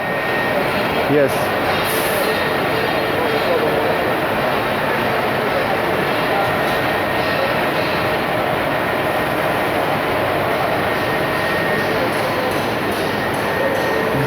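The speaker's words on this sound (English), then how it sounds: "So this is another machine for milling." A milling machine running on the floor of the FPM factory, heard as a loud, steady mechanical drone that continues unchanged for the whole stretch while a person speaks briefly over it.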